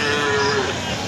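Large bulls at a busy Hanskhali cattle market give a loud, drawn-out moo that rises over the constant crowd noise and fills the whole short clip.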